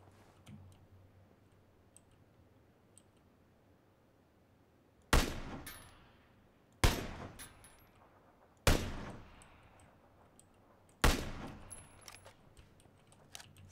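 Gunfire from an SKS rifle in the video game PUBG: four loud, sharp single shots spaced about two seconds apart, each with a short decaying tail, over a quiet background.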